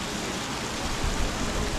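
Steady rain falls in Ha Giang, Vietnam, a dense, even hiss of drops with a slightly heavier patter partway through, continuous and close, with no voices.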